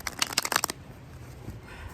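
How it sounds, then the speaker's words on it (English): Tarot cards are shuffled in a quick burst of crisp riffling snaps lasting under a second, then fade to quiet handling noise and a few faint soft taps. "I'm going to keep shuffling."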